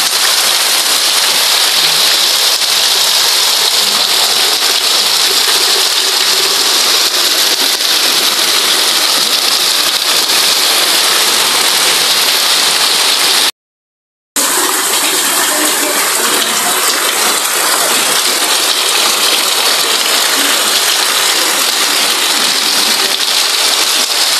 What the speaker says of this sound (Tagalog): Ulan guys, ito ay ulan ni Paulo.